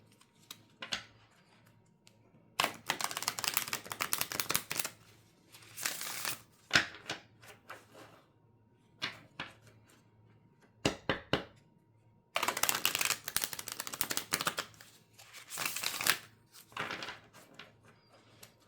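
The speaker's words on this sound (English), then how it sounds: "Let's shuffle one more time." Cards being shuffled in several bursts of quick crisp riffling and slapping, separated by short quiet pauses, close to the listener.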